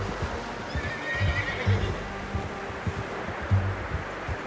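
A horse in the Red Dead Redemption 2 video game gives a whinny while hooves clop in a soft irregular rhythm, set against a gentle outdoor ambience of wind and rustling.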